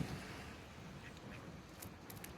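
Ducks quack in an urban concrete setting, a few short, faint calls rising over steady background noise, with no talking.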